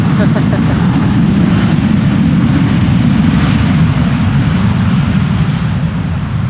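An airliner landing at Amsterdam Schiphol with thrust reversers applied, a loud, dense roar that holds steady and fades slightly near the end, with no talk over it.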